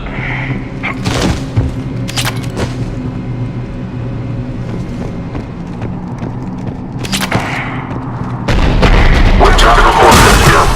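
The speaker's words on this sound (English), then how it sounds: "The cannon fire is clearing the way." Heavy booming cannon blasts and rumbling explosions in a noisy Mass Effect 3 battle scene on Tuchanka, with a loud surge of gunfire and crashing near the end.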